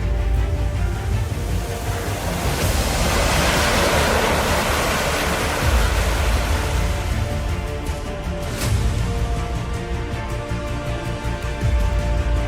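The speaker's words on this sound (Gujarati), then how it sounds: "ધીમા મોજાએ પાણીની ટાઢી ઝલક દેતો ભારતનો અરબ સાગર" Gentle Arabian Sea waves on the Gujarat coast roll in continuously, a steady, soft, even rushing hiss with no voices.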